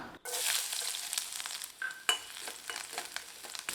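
Garlic sizzles and crackles steadily in a hot pan, with a few scraping stirs and a sharp clink partway through; no voices.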